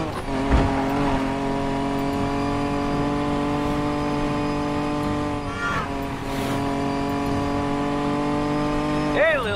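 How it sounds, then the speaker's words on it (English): Race car engines in Need for Speed Payback hold a loud, sustained harmonic roar with brief revving surges and a quick pass-by sweep, close and continuous, with a voice talking over them. "Better hurry, engines are revving."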